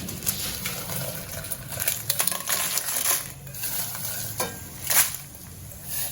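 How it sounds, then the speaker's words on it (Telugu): Dried red chillies fry in groundnut oil, giving irregular sharp crackles and pops over a faint, soft sizzle, close by and with no voices. "ఇందులో మనం ఎండుమిర్చి వేయించుకోవాలి"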